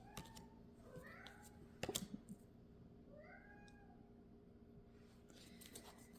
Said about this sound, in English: You may be hearing my cat in the background playing with his ball.